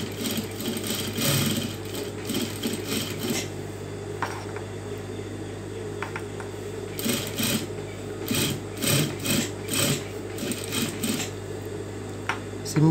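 Sewing machine running in steady bursts of stitching as piping is sewn onto a saree blouse, close and fairly loud, with brief pauses between runs.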